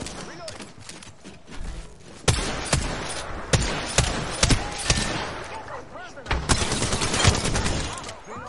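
Gunfire from a 30-30 rifle and other weapons cracks through an Apex Legends match, with sharp, loud shots arriving at irregular intervals amid continuous game noise while a player talks over it.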